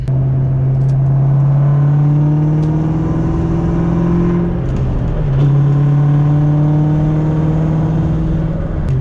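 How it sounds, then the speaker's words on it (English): A 2003–04 car with a manual transmission drives at steady speed, its engine droning loud and close; near the five-second mark the tone dips and climbs again as the driver double-clutches through a gear change. "Did a little bit of double clutch action right there"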